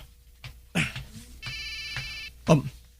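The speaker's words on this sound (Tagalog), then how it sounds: "Nagring ang cellphone ko sa akong bulsa." A cellphone rings from inside a pocket with a steady electronic tone partway through, between louder bursts of nearby sound.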